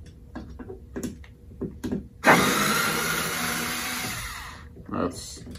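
A powered screwdriver drives a screw into a GermAwayUV system in one loud whirring burst lasting about two seconds, with short speech before and after.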